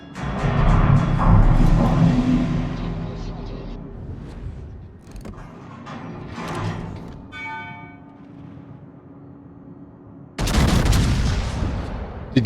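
Naval guns fire in a warship video game, heavy booming blasts that roll off into long fading rumbles, a second loud volley arriving near the end.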